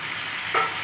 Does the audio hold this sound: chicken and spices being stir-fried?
yes